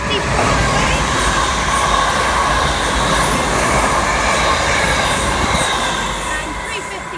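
A British Rail Class 350 electric train runs through Milton Central station on the West Coast Main Line without stopping, a loud, steady roar of wheels and motors holding close for the whole span before easing slightly at the end.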